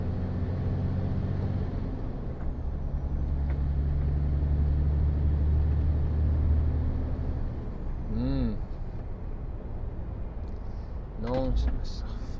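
A truck on the road near Utoxeter gives short air-brake hisses around eight and eleven seconds over a steady engine rumble, with someone talking through most of it.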